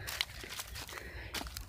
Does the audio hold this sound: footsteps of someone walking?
yes